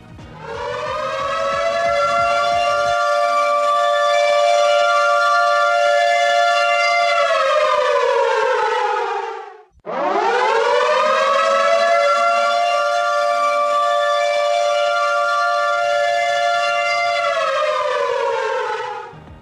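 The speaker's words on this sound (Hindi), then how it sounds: "आप हमारे स्टूडियो से ये सायरन की आवाज सुनिए।" A loud wailing siren rises and holds for several seconds, dips briefly, then winds up again and sustains, with no talking.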